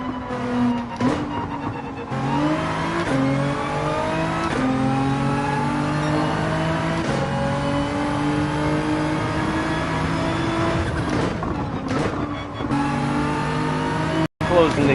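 A race car in Gran Turismo 7 at Interlagos accelerates at full throttle, its engine climbing through rising revs with sharp drops at each gear shift, a continuous loud whine over a steady background.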